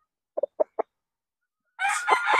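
A Kelso gamecock rooster gives a few short clucks, then after a pause launches into a loud, close crow at the end.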